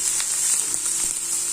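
Pasta frying with onions in a pan, a close, even, loud sizzle with a bright hiss and faint crackles throughout the short span.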